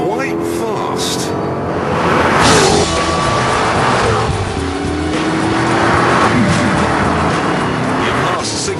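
Jaguar XKR roaring hard under full acceleration, engine note rising steadily as gears climb, with some tire noise and a voice talking over the loud, close engine.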